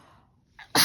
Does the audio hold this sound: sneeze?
yes